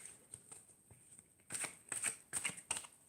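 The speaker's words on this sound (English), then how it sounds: "I am shuffling cards, by the way." Playing cards being shuffled at home, with quiet riffling in short bursts, then a louder run of crisp riffles and snaps close up, and no talk.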